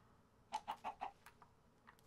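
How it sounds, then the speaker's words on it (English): A chicken in the video game Minecraft gives four quick, soft clucks in a row, followed by a couple of fainter ones against a quiet background. "Hey, there's my chicken friend."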